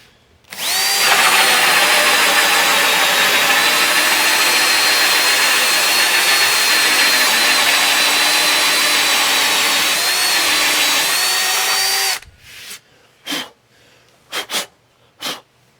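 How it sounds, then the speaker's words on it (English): A power drill fitted with a hole saw cuts into the transom of a jon boat, a loud steady whine lasting about eleven seconds before stopping, followed by a few short clunks and knocks. "It's time to do some hole sawing."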